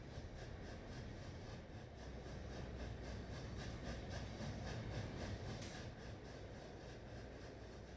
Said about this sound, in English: There goes that steam train.